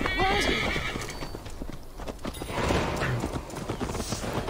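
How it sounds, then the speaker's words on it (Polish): Horse in Assassin's Creed Valhalla gives a whinny, followed by clip-clopping hooves, close and clear over soft game ambience. "O, zrespił się koń"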